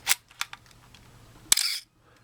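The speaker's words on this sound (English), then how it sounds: "Notice that this camera does have a little bit of shutter squeak." A Canon A-1 film camera fires its shutter at a faster speed with a sharp mechanical clack, followed by a short high squeak from the reflex mirror, close and clear, with a few lighter clicks before it.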